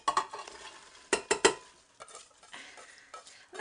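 Leeks drop into melted butter in a pan, giving a few sharp clattering bursts and scrapes of stirring over a soft intermittent sizzle, close and uneven, with no voices.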